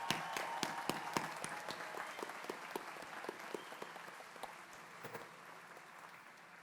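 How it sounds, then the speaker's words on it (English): Applause from a commencement ceremony audience honouring master's degree recipients at Elizabethtown College in 2023, a sustained wash of many hands clapping with sharp individual claps standing out, steady and moderately distant throughout. "Let's offer another round of applause for our master degree recipients."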